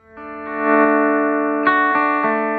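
Electric guitar played dry through an amp with no reverb, a ringing sustained chord that swells in, followed by a few firmer re-struck chords near the end. The tone is rich in harmonics with a slight grit, close and alone.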